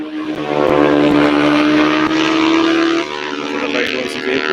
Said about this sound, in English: A very noisy vehicle.